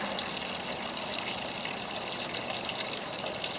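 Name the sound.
JobSmart parts washer pump circulating solvent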